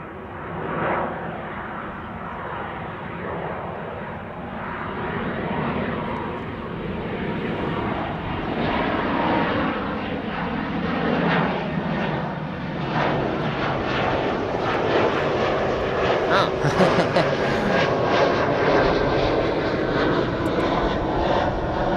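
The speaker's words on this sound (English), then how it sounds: "Coming up with an E2 Embraer 195 is KLM." A KLM Embraer 195-E2 jet departing Amsterdam Schiphol for Billund, its engine rumble building gradually from moderate to louder and holding as a sustained roar, alone without speech.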